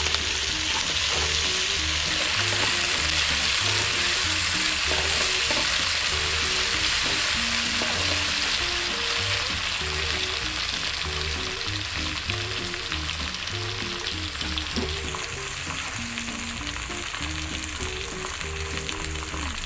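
Garlic paste being stirred into bain fish frying in a pan in a Bengali kitchen, for a coconut-milk fish dish: a steady, loud, close sizzle with soft stirring scrapes throughout and no voices.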